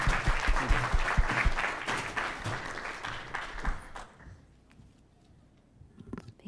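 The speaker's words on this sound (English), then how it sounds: "Let's give a round of applause to all the speakers" Conference audience applauding after a series of research talks, a dense burst of clapping that holds for about four seconds and then fades into room murmur, with a few scattered claps near the end.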